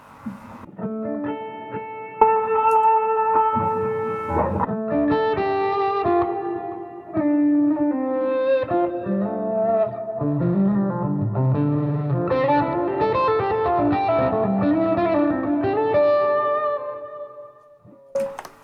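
Sustained electric guitar notes and chords ring out through a Fender Super Reverb tube amp with lush reverb and long, smooth sustain, played alone at moderate volume.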